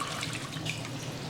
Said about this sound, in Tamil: இப்போ வந்து அரிசி வந்து ஊற வச்சு 1/2 அன் ஹவர் ஆயிடுச்சு. ஸோ அதனால் தண்ணியை ஃபுல்லாக இருத்துடலாம்.